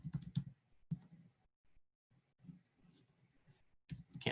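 Typing on a computer keyboard in short bursts of clicking keystrokes, moderately close, with pauses and near-silent gaps between flurries.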